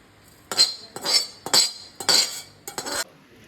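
A spoon clinks and scrapes against a pot while pulao is mixed, in five distinct bursts of close metallic clatter with short gaps between them, and no voices.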